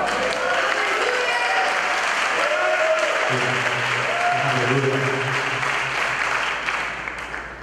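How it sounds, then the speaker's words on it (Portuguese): A church congregation claps for the Lord during a conference service, the applause loud and sustained, with voices and sung or spoken tones rising beneath it before it thins out at the end. "Se você crê nisso, aplauda ao Senhor."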